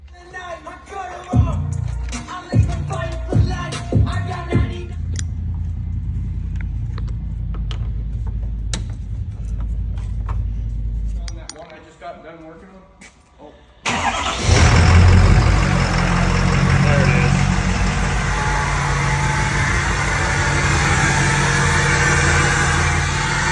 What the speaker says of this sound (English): just put in the Stage 1 KC Turbo. Just doing the tuning right now